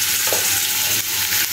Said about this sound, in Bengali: এই আর কি, ভাজা হোক